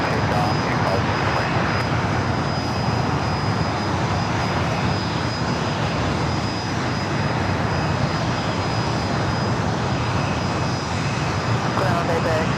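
An aircraft takes off at Los Angeles International Airport, a loud continuous roar of engines holding steady throughout, with radio voices speaking over it.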